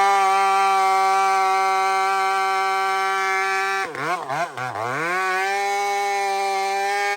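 A freshly sharpened chainsaw runs at a loud, steady high-pitched whine, briefly dipping and wavering in pitch as it bogs into a cut before settling back to full revs.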